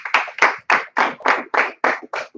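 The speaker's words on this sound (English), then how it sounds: "Give everybody a round of applause." Hands clap at a church teaching service in an even, rhythmic beat of about eight crisp claps, close and loud with no talking.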